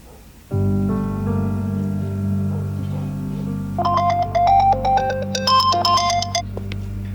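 A phone rings out on an outgoing call, a sustained tonal ringback melody that starts abruptly after a short pause, then shifts into brighter, stepped electronic ringtone notes, loud and close with no talk over it.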